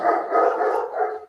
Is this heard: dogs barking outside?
yes